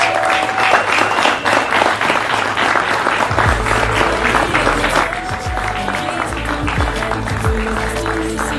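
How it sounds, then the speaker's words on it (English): Wedding guests applaud the bride and groom at Tim and Maria's reception, a loud, dense wash of clapping sustained throughout with crowd murmur and a few voices mixed in. "let's give them a big round of applause"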